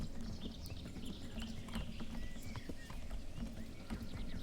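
Horse hooves clip-clopping on the ground in the medieval video game Kingdom Come Deliverance, a steady, fairly faint rhythmic stream of hoof clops over soft ambient background.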